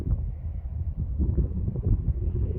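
Steady low, rumbling wind buffeting the microphone in an open area of heather flowers, continuous and fairly loud throughout with no voices.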